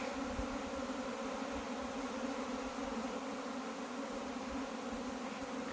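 A honeybee swarm moves into an empty blue hive, filling the air with a steady, dense, continuous buzzing hum from many bees close by, with no talking.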